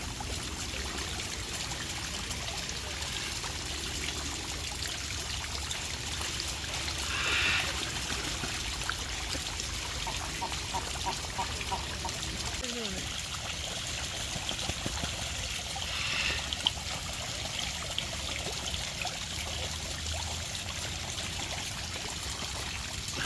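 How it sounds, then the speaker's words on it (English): An animal splashes in the water at Sunken Gardens in St. Petersburg, Florida, giving a continuous trickling, sloshing wash with a few louder splashes and no talk. "You gotta splash around, don't you?"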